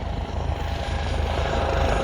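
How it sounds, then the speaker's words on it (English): A Coast Guard helicopter flies overhead, giving a loud, steady rotor and engine rumble with a throbbing low pulse that fills the whole stretch without a break. "Let me know in the comments if you want helicopters to interrupt videos or not"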